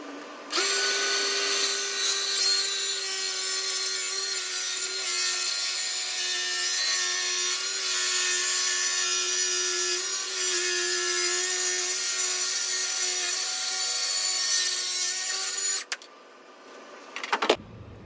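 A power saw cuts steadily through the bottom of a prehung wooden door, a loud sustained whine and rasp lasting about fifteen seconds before stopping, followed by a few small knocks.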